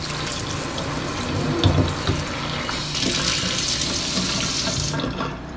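A pull-out kitchen faucet sprayer gushes water steadily into a sink, a loud close hiss that shifts in tone as the spray is moved, then drops sharply near the end.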